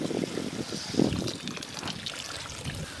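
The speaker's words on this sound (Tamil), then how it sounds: "கொஞ்சம் தண்ணி ஊற்றிக்கலாம்." Water trickles and splashes into a village-style fish curry pot cooking over a fire, a steady pour close by with outdoor background noise.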